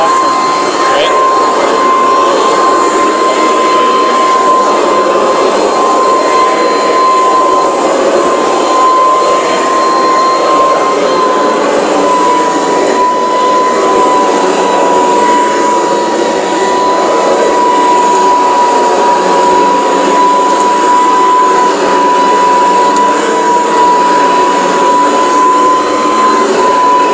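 Hoover Decade 800 vacuum cleaner running on a replacement motor, a loud, steady whine with a sharp constant tone, close up and unbroken for the whole stretch, with a voice talking faintly over it.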